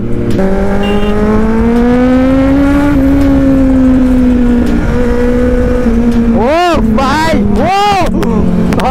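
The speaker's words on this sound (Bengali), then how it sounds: "কতদিন পরে আমার বাইকটা চালাচ্ছি ভাই, আলাদাই ফিল" A Kawasaki Z900 motorcycle ridden on a wet road after rain, its engine a loud, steady drone that climbs slowly in pitch, then two sharp rising-and-falling revs near the end.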